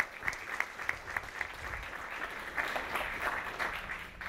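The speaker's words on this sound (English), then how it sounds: "Give yourselves a round of applause for being here." An audience at a public workshop presentation claps steadily, a dense roomful of hands applauding at a constant level throughout with no voices standing out.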